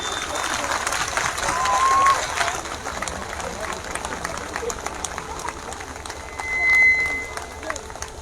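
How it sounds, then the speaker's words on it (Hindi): Broad, continuous applause from a large crowd welcoming a guest at a women's conference, steady clapping swelling at moments. "जोरदार तालियों से स्वागत"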